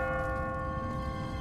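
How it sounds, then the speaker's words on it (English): A church bell rings in The Walking Dead video game, set in a city. Each strike holds a long, sustained tone that rings steadily at a moderate distance. "What kind of church bell goes off at 20 past the hour?"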